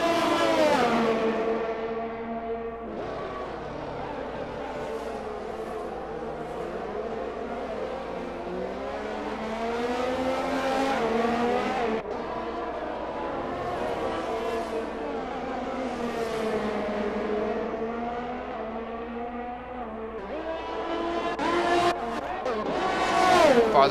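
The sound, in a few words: race cars racing in a video game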